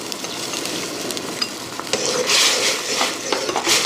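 Egg rice sauce with soy sauce and oyster sauce is stirred in a pan, a busy close scraping with small metallic clinks over a low sizzle.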